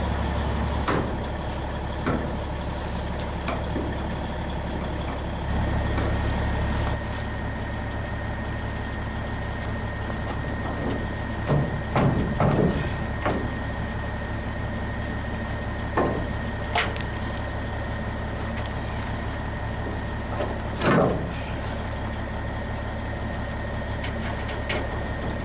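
An old walking floor trailer runs with a steady mechanical drone and engine-like idle, punctuated by occasional clanks and sharp knocks, heard continuously at moderate distance without talk.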